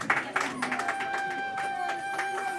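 An audience at a farewell ceremony for Phoolchand Bodh claps steadily, moderately loud and close, with a sustained tonal sound running through the clapping.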